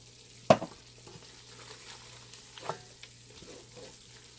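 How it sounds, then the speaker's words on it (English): Flour cooking and being stirred in a pot for oxtail gravy: a sharp scrape of the spoon near the start, then low, quiet sizzling with a few soft stirring knocks, no talking. "So I'm still cooking that flour taste off."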